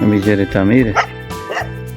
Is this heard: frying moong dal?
no